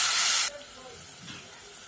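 Water splashes into spices frying in a pan of fenugreek and nigella powder for dal curry, giving a loud, close burst of hissing sizzle for about half a second before it drops to a faint simmer.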